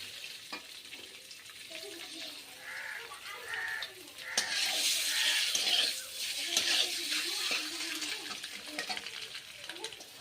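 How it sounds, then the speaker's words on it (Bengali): Eggs frying in a pan, a steady close sizzle with stirring clatter that swells louder midway through, with faint background sounds from a village kitchen. "ডিমগুলো একটু ভেজে নেবো, একটু লাল লাল করে ভেজে নেবো ডিমগুলো।"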